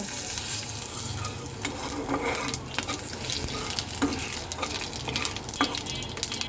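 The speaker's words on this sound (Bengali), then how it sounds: "জিরাটাকে আমি খুব সুন্দর করে ভাজবো" Whole cumin seeds and a bay leaf fry in hot oil left over from frying potatoes, giving a steady close sizzle with light stirring scrapes and small clinks throughout.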